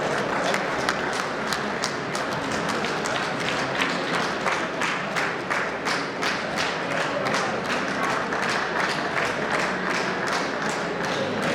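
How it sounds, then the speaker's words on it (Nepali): Audience claps at a Nepali family foundation's annual general assembly and convention, a steady, moderately loud round of applause with distinct individual claps that continues evenly for the whole stretch. "ताली बजाएर सम्मान गरिदिनु होला।"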